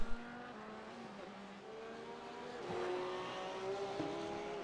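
A Porsche race car driving on a track, its engine note holding a steady harmonic drone that rises in pitch as it accelerates, with other cars audible on the circuit.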